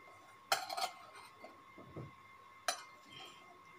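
A metal spoon scoops gram flour into a bowl, giving two sharp clinks against the dish, one early and one later, with quieter scraping between them and no voices.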